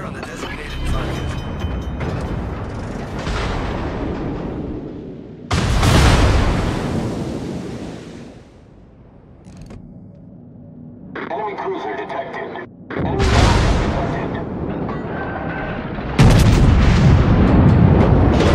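Naval guns in World of Warships fire in several heavy booming salvos, each a sudden loud blast with a long rumbling tail, spaced across the span with quieter gaps and some radio-like chatter between.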